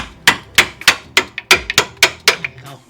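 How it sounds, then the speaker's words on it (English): A hammer taps a bolt into a steering and suspension part of a 2006 Chevrolet HHR, about a dozen sharp metallic strikes in an uneven rhythm, loud and close, with no talk. "If anything, you use a hammer to help you."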